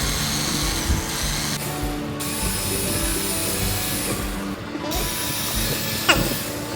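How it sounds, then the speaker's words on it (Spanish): A power drill bores holes in a container for a hydrostatic pressure experiment, a loud steady whir that briefly cuts out twice before starting again, close by with no speech. "Vamos a proceder a hacer los orificios."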